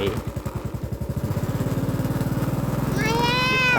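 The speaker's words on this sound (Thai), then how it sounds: "มีรถไถ" A tractor engine runs nearby outdoors in green farmland, a loud, rapid, steady chugging that speeds up slightly, with a voice briefly heard near the end.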